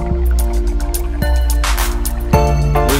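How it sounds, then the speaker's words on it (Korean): Clear stream water in a narrow mountain valley is scooped by hand, close wet sloshing and pouring with a few sharp splashy drips over a steady background trickle. "제가 직접 손으로 물을 담아봤습니다"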